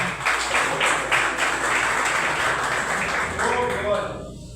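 A church congregation claps in praise during a service, the hand claps falling in a fairly steady rhythm. A voice speaks over the clapping, which stays moderately loud before thinning out near the end.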